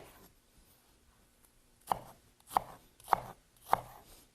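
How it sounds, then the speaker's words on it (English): Knife chopping an onion on a cutting board, four crisp evenly spaced chops after a quiet start, close and clear with no talk. "when you go to chop the onion, you just go in, just make creases like this up to the root"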